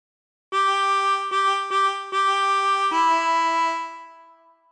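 Harmonica plays a phrase of Waltzing Matilda, four repeated blown notes followed by a held, bright tone, clear and close with no voices.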